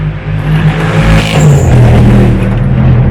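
A car drives past through a village, a loud, close engine roar that swells and holds with a steady mechanical drone, heard alone without talk.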